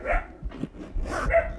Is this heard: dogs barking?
yes